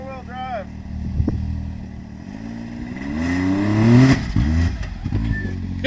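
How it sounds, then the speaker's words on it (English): A Savage X3 makes a boosted launch in four-wheel drive, its engine note climbing in a series of rising, buzzing revs, with clattery bursts near the end. "Boosted launch in 4-wheel drive."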